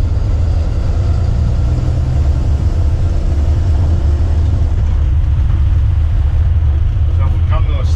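Dodge Ram Cummins truck with a swapped 47RE/48RE automatic transmission pulls away slowly from a garage, a loud, steady low diesel rumble heard from inside the cab, with a person talking over it throughout.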